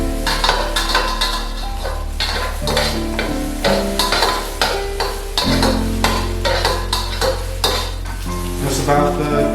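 Eggs fry in hot oil in a pan for fried rice, giving a steady loud sizzle broken by repeated scraping and clinking of a utensil against the pan.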